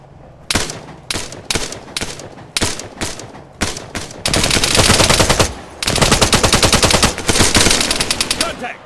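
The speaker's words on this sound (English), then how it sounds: "Contact! Machine gunner!" Loud, close machine gun fire in the ArmA 3 military shooter, opening with several short separate bursts, then longer sustained rattling strings of automatic fire with brief pauses, no talk over it.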